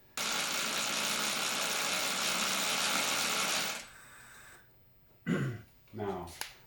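A converted Honda CRF dirt bike's electric motor spins with its chain off, running backwards. It gives a loud, steady whine for nearly four seconds, then winds down, and a voice briefly follows.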